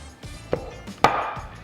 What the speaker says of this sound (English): I just grab a knife and I just cut it straight down the middle